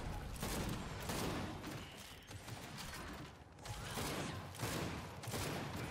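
Sniper rifle fire in the video game Gears 5 during a ranked Control match sounds as loud, heavy bursts over dense mechanical clatter and continues without any voices over it.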